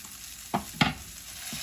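Ground turkey breast sizzles in an oiled, preheated pan, a steady frying hiss broken by two sharp scraping stirs of a utensil and a softer third one, close and clear with no talking.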